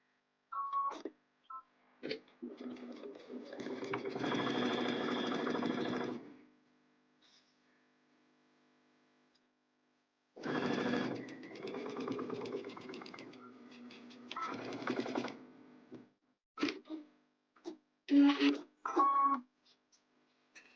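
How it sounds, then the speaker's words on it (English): A sewing machine stitches a half-inch seam along the short edge of scrunchie fabric, running in two long steady bursts separated by a pause, then a few short stop-start runs, close and moderately loud. "You're going to sew a 1/2-inch seam allowance on that short edge."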